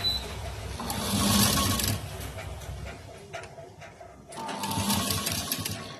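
A sewing machine stitches pleats in two loud, fast, rattling runs separated by a short pause, close by and with no talk over it.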